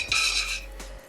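Ghee spooned into a pan on a gas stove for Odia-style chicken ghee roast: a short metallic clink of spoon on pan, then a scraping smear with a steady low hum beneath, alone without talk.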